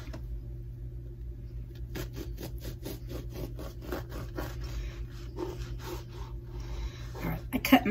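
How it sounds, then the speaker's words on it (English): A knife sawing through a loaf of homemade peasant bread, a rhythmic series of close, crusty rasping strokes after a quiet start, with someone talking at times. "I just made a loaf and cutting it up"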